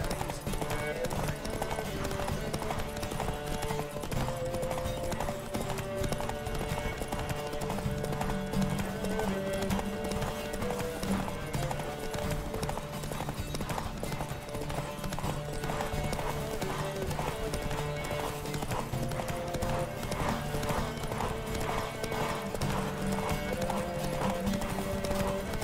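Horse hooves gallop in a race in The Witcher 3, a fast, driving clip-clop rhythm that runs without pause alongside steady background music, with an occasional whinny.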